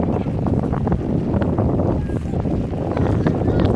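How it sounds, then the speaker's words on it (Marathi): Strong wind sweeps across Konkan rice paddies during traditional planting, a dense, continuous roar that buffets the microphone throughout with no break. "वारं जोरात वर आलंय."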